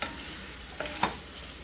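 Shrimp sautéing in a hot pan gives a soft, steady sizzle close by, broken by two brief scraping stirs near the end; no one speaks.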